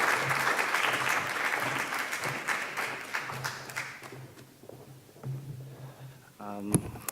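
An audience at an evening art history lecture applauds steadily as the lecturer is welcomed to the stage, the clapping thinning out before a brief voice and a tap near the end.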